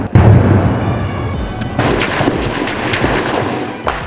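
A burst of dramatized gunfire and blasts evokes the 2007 Lal Masjid operation in Islamabad: a heavy opening boom, then sharp, loud shots cracking irregularly over several seconds without speech.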